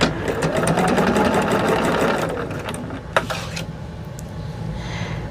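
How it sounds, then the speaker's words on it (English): A sewing machine stitches in a steady, fast run for about three seconds, then slows and stops with a sharp click before faint mechanical ticks and room noise. "I'm sewing."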